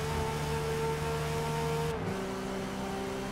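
Porsche 917 race car engine in Forza Motorsport at Le Mans holding a steady high-pitched drone, then dropping abruptly in pitch as the revs bounce off the limiter; loud, close and continuous with no talk.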